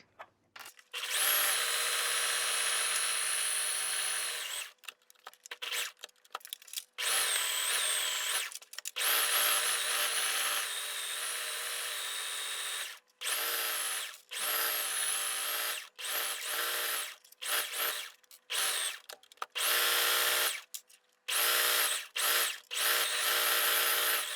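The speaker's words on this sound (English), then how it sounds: "now we will sew the whole top edge with the straight stretch stitch" A sewing machine running a straight stretch stitch along the top waistband edge of mini shorts, whirring loudly in long bursts that stop and restart many times, with no voices.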